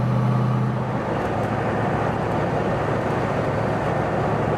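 A 1971 Chevelle fitted with a TREMEC TKO 5-speed manual drives down the road, its engine droning steadily and loud with a low hum that shifts slightly early on, broad road and wind noise throughout, and no talking.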